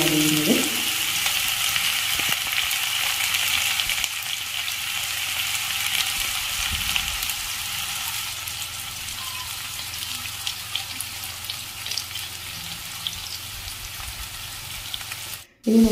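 Whole spices spluttering and roasting in hot oil for an egg roast, a steady broadband sizzle with faint crackles that runs alone and evenly before cutting off abruptly near the end.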